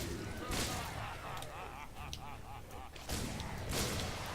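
Rapid, continuous video game gunfire in the train shooter Pain Train, a steady stream of sharp shots and whooshing impacts at moderate level, with louder bursts near the start and end.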